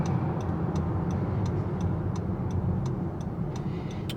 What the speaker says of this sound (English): Nice and soothing turn signal indicators.